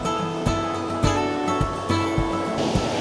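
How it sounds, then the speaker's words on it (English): Pacific Ocean waves surge in against a rocky California shore, a continuous close roar of surf with repeated rhythmic swells and crashes rising about every half second, heard with no voices. "See here the waves are really coming in pretty high."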